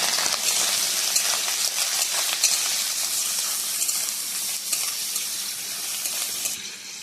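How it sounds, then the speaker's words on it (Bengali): Grated coconut fries in a little oil with mustard seeds and chillies, village-style cooking for a water lily dish, producing a loud, continuous, close bright sizzle throughout with no talking. "এবারে দেবো নারকেল একটুখানি তেলে ভেজে নেব"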